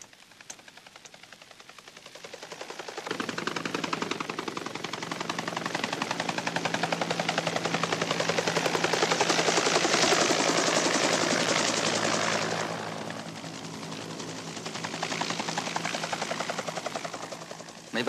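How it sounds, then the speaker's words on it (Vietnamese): An American reconnaissance aircraft drones overhead, a broad steady roar that swells in over a few seconds, holds loud and close, then eases back and lingers as a lower engine rumble. "Máy bay trinh sát của Mỹ, một dấu hiệu bất thường."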